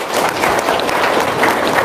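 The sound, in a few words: audience applause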